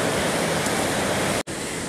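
Large Pacific Ocean waves break on the shore in a loud, continuous roaring surf wash, close and overwhelming, with one brief sharp dropout near the end and no voices.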